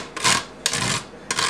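A tomato is rubbed against a grater in three quick, wet rasping strokes, close and fairly loud, each separated by a brief pause.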